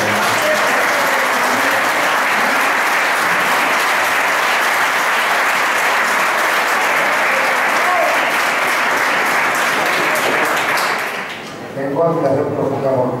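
An audience at an Aragonese jota CD presentation in Puerto de Sagunto applauds a teacher, a dense, loud and sustained clapping that fills the room for about eleven seconds before fading as a voice begins speaking.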